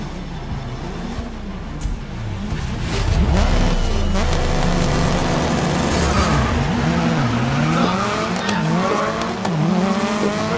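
Race cars launching off the start of a race in the video game Grid 2019, engines roaring and revving loudly with sweeping pitch changes and tire squeal, a close, continuous mechanical din with no talk.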